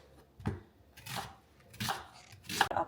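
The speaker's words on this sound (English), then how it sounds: "I'm kind of butchering this onion." A knife chops through an onion on a cutting board, four separate thuds spaced roughly half a second apart, close and fairly quiet.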